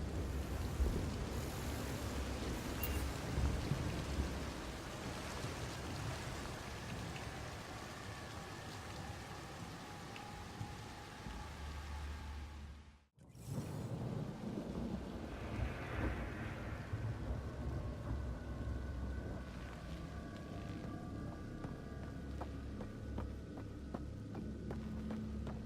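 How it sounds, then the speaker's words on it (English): Steady rain pours on a surface in the video game Mass Effect: Andromeda, a dense continuous hiss that holds through the whole stretch, cut by a brief dropout midway; no clear thunder stands out. "It's raining? How is it raining?"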